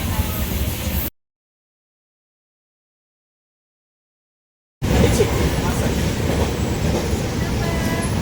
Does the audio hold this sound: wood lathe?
no